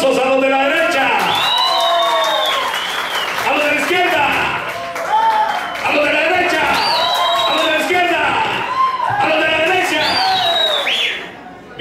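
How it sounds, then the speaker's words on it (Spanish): Audience seated on the right side at a Thursday karaoke night in Bingo Multicolor claps steadily and loudly, with excited shouts and whoops riding over the applause throughout until it fades at the end. "¡Aplausos a los de la derecha!"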